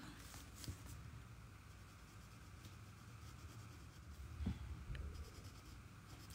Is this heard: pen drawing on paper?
yes